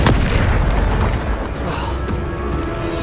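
A Bombarda explosion spell blasts in Hogwarts Legacy, opening with a sharp loud boom that rolls into a sustained rumbling roar, followed by a smaller burst near the end.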